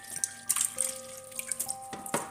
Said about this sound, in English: Make sure you're pouring the cold water